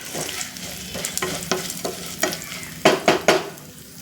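Turmeric, asafoetida and other tempering spices sizzle in hot oil in a pan for a Telugu-style tamarind-free orange pulihora, with a steady fry hiss broken by repeated sharp scrapes and stirs that grow louder toward the end.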